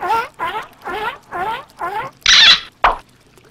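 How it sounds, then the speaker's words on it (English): Five evenly spaced high squeaky calls, then a toy seal drops into purple dyed water with a short bright splash and a smaller second plop right after. "Let's put the seal in the purple water."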